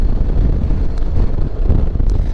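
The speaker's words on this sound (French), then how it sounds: "J'espère que vous m'entendez bien malgré le vent de face à 70 à l'heure." Headwind buffets the microphone while riding a Honda X-ADV scooter off-road at about 70 km/h, a loud continuous low roar with gusting rumble and no break.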